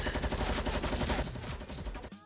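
Rapid automatic gunfire from miniguns and SMGs rattles in a Fortnite Battle Royale match, dense overlapping bursts that are loud and continuous for about two seconds before cutting off.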